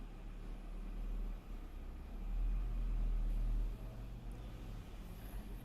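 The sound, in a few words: truck passing by outside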